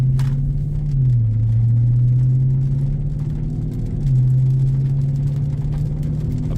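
A stock Dodge Charger R/T Scat Pack Widebody on a test drive gives a steady, deep engine drone from inside the cabin, dipping briefly near the gear changes around the first and fourth seconds before settling back.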